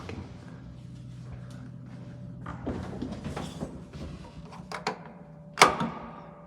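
An old Stigler-Otis elevator in Rome, its doors handled with clicks, rattles and a sliding rumble, ending in a sharp metallic clack. A low steady hum runs underneath throughout.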